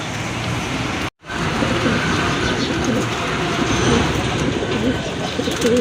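Two colourful pigeons for sale at a market stall coo repeatedly amid a dense, steady background din, with one brief dropout near the start; a faint voice may be present underneath.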